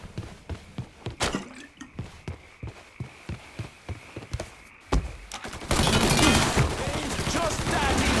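Rapid gunfire from the video game Mafia 3, a string of sharp shots in an uneven volley, followed by a loud, dense burst of roaring noise, like an explosion or fire, that holds to the end.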